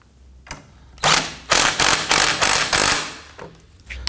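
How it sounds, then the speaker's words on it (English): A torque wrench tightens the lower rear shock bolt on a 2015-2024 Nissan Murano, a close, loud burst of rapid ratcheting clicks lasting about two seconds, with a few lighter taps before and after. "So the lower bolt is going to get torqued to 81 foot-pounds."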